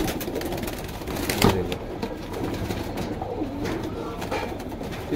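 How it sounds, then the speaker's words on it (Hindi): A crowd of pigeons at a bird sale coos softly and continuously, a low murmuring burble close by with scattered wing flutters and a brief spoken remark. "ये सब कबूतर है, देखो कबूतर बहुत सारे भाई"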